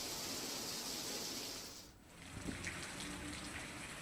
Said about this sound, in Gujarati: દહેગામના ગ્રામ્ય વિસ્તારોમાં પણ વરસાદ પડ્યો.